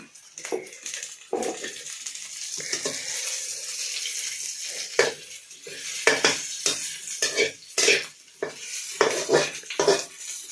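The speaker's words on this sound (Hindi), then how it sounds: "चम्मच चलाओ" A spoon stirring a brinjal, onion, greens and bean sabji in a cooking pot, close repeated scraping and clinking strokes over a soft sizzle, irregular rhythm, no voices.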